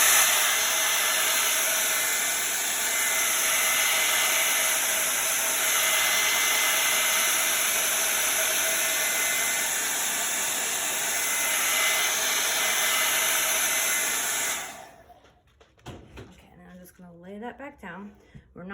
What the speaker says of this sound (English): I'm gonna get my blow dryer, so hang tight.